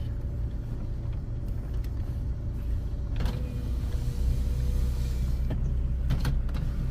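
A car's power window hums as it lowers, a steady motor whine over the low rumble of the moving vehicle, with a few faint clicks and no talking.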